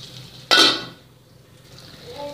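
A spoon clinks and scrapes against a pot while tomatoes cook down for lamb kidney curry, one sharp metallic knock followed by faint stirring and soft simmering, fairly quiet.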